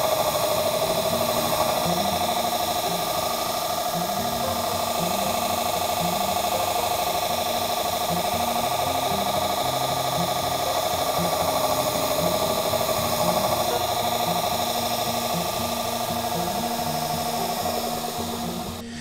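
A steel chisel ground to a 25-degree bevel on an Axminster Trade Ultimate Edge sharpening system, throwing sparks: a steady, loud motorised whine and grinding rasp running unbroken throughout, with no talk.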